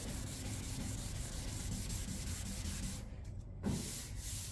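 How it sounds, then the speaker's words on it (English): Steady, continuous abrasive rubbing of sanding on a Mustang drag car's paint finish, close and even, with a brief pause near the end before it resumes. "We're trying to knock all that down by sanding it."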